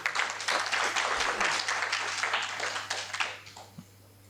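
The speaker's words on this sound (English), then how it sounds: "Can we give her a round of applause?" A conference audience breaks into loud, dense applause that holds steady for about three seconds and then quickly dies away, leaving a quiet room with a single faint tap.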